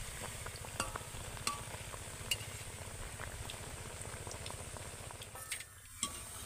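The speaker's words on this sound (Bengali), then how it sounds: "একদম মুচমুচে করে লাল লাল করে ভেজে নেব।" Pitha cakes frying in hot oil until crisp and reddish-brown, giving a steady close bubbling sizzle with occasional sharp crackles and pops throughout, no voices.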